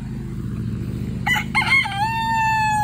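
A rooster crows in a backyard flock of Silkie and Polish chickens: one loud, close cock-a-doodle-doo with a few choppy opening notes and a long held ending, over a steady low background rumble.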